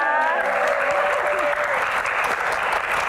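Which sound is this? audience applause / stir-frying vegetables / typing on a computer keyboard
audience applause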